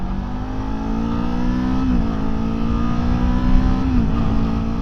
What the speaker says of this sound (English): Engine kicked in.